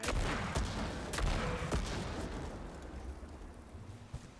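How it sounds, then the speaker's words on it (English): A Hive boomer cannon launcher firing in Destiny 2: several heavy booming shots spaced about half a second apart, each with a rumbling explosive tail. The volley is loud at first, then fades into a lingering low roar. "It's like a hive boomer cannon launcher thing. It doesn't require reloads."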